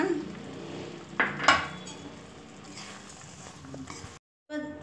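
Curd is stirred into pineapple pachadi in a pot with the stove off, a spoon scraping and clinking against the metal in a few close knocks, then quiet stirring and a brief silent gap.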